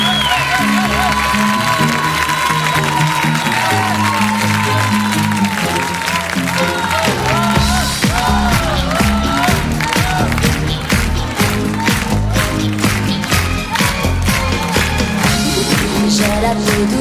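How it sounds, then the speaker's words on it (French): Studio audience at the French TV show Tubes d'un Jour applauds for a singer, dense continuous clapping mixed into loud pop music with a strong bass beat, rhythmic claps growing sharper midway. "Merci de l'applaudir."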